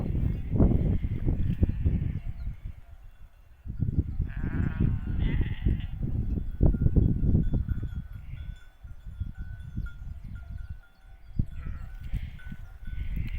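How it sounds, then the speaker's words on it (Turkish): Sheep bleat repeatedly, several animals calling at close range in an irregular overlapping chorus, with no talking. "Koyunlar indi aşağıya. Biraz yukarıda otluyor."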